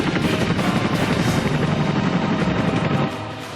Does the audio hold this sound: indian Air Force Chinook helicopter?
yes